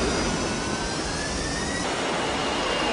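A vertical take-off jet plane roars in the 1994 action film True Lies, a loud, dense and continuous engine blast with a high whine running through it and no voices.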